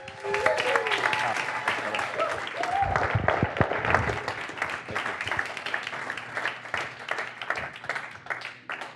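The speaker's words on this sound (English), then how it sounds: "Everybody give a round of applause to welcome our friend" Audience applause welcoming Lou Marchetti onstage, a crowd of moderate size clapping steadily for several seconds with some cheering, and a voice talking faintly over it.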